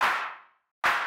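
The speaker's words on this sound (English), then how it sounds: "one thing that I like to do a lot is actually use this DS clap" DS clap drum sample played dry with no effects: a single sharp clap hit that decays over about half a second, then silence before a second identical hit begins, with no other sound around it.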